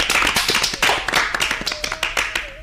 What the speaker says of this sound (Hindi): तो उनके लिए एक तालियां तो बजाइए।